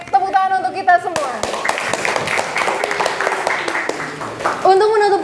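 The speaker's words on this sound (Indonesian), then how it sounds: "tepuk tangan untuk kita semua" Classroom applause from high school students during a counseling session, a burst of clapping of a few seconds between stretches of someone talking before and after.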